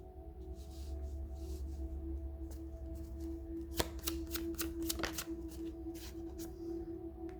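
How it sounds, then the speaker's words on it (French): Tarot-style cards shuffled and drawn, a close soft rustling run with several sharp riffling flicks and snaps midway, alone without voices. "Pour la trahison, avec ce jeu, on va prendre 3 cartes."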